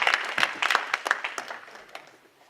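Audience round of applause for a speaker at a women's transformation summit, a burst of distinct claps that thins out and fades away over a couple of seconds.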